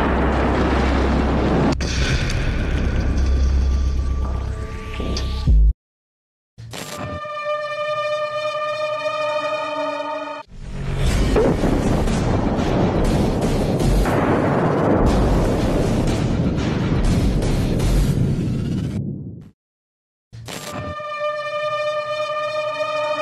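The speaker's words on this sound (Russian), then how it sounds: "Мина МОН-90, она называется противопехотная, но может применяться и по легкобронированным объектам." A MON-90 directional anti-personnel mine, holding about 9.6 kg of explosive, detonates in loud booming blasts. Bursts of broadband roar are broken by brief silences, with a rumbling aftermath and no talking.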